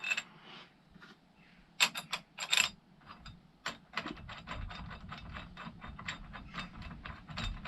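A ratchet tightens the head stock bolts of a Triumph Speed Triple motorcycle, with close, distinct clicking bursts; the first run is sharp and uneven, followed by a steadier series of ratcheting clicks.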